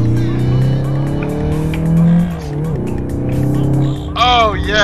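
Honda K20 car engine in a video game revving hard at high pitch, rising and falling through gear changes, with a brief tire squeal near the end.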